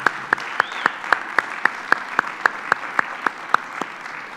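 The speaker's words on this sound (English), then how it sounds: "Let's give them a round of applause" A small church group on Mother's Day claps sparse, evenly spaced single claps, about three per second, crisp and fairly close, with a faint room hum underneath.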